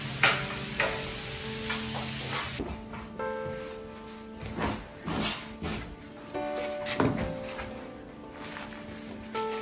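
Tadka, with tempering spices sizzling in hot oil in a pan, crackles and hisses up close, broken by repeated scraping stirs and clinks of the utensil, with no voices over it.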